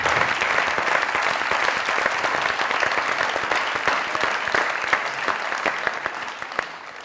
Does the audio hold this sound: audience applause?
yes